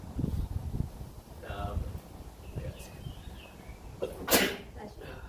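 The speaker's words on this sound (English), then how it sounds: "Usually I sneeze like 20 times" A single sharp sneeze bursts out loudly near the end, after quieter rustling and faint background sounds.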